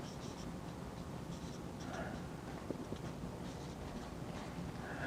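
Quiet scratching and tapping of notation being written on a board in a linear algebra lecture, soft and intermittent against a low steady room hum.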